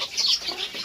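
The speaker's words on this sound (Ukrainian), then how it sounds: "Курочка і петушок стоїть." A hen and rooster cluck softly nearby, a short run of throaty chicken sounds.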